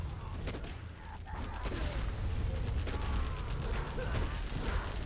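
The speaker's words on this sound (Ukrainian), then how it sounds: "Звуки пострілів такі прям." Gunfire in a video game match, sniper shots among it, heard as a quiet bed of scattered sharp cracks and rumbling bursts over several seconds.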